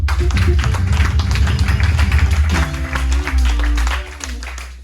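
A church congregation applauds and cheers in praise of God, with loud sustained clapping and voices over a low musical drone and organ-like tones.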